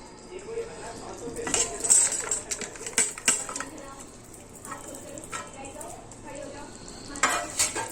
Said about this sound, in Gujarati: અને હવે આપણે એમાં એડ કરીશું આપણા તળેલા બધા શાકભાજી